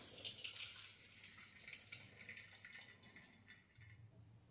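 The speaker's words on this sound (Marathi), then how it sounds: "हे पण मी गाळून घेणार आहे" Water from boiled green peas drains through a strainer with a soft, continuous pouring trickle and light splashes, faint and close, with no talking.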